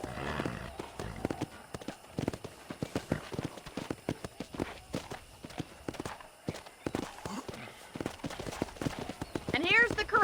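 Horse hooves clip-clop steadily at a walking pace around a ranch corral in Red Dead Redemption, close and even, under ongoing conversation.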